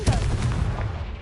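A Confringo blasting spell in Hogwarts Legacy goes off as a single deep booming explosion with a rumbling low-end tail that fades over about a second, close and loud.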